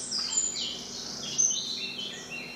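Several birds sing and chirp in overlapping high phrases, a steady morning woodland chorus with a faint low hum beneath.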